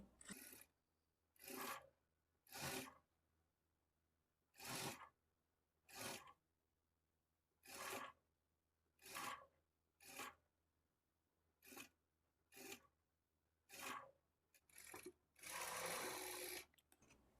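A sewing machine stitches folded fabric for boutique-style thread piping on a garment, running in about a dozen short, even bursts separated by pauses, close and clear with no talking.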